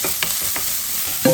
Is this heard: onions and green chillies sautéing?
yes